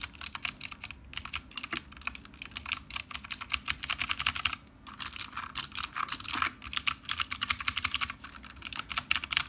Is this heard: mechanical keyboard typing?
yes